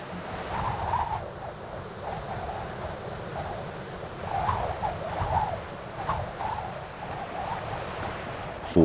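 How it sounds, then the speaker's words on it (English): Stormy Mediterranean waves churn and break under gusting wind, a constant rough wash with surges swelling every few seconds and no voices. "Falling winds lash the surface of the water. Waves can reach meters in size."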